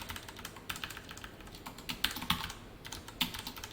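Computer keyboard being typed on while coding, a quick irregular run of light key clicks with a few sharper taps, close and fairly quiet against faint room noise.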